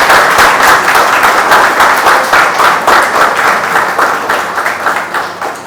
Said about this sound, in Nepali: ताली बजाएर येशूलाई महिमा गरौँ